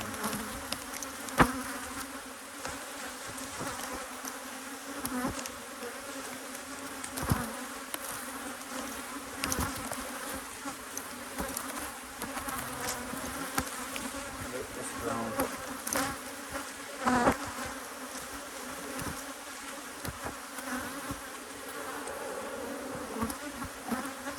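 Honey bees buzz steadily around a hive, a dense continuous drone with individual insects flitting close past at moments, filling the whole stretch without talk.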